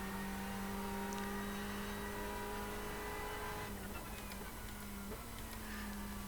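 Ferrari 488 GTE race car engine from a racing simulator game, lapping Silverstone near Luffield, gives a steady high-pitched drone that shifts pitch at a couple of gear changes, with no talking.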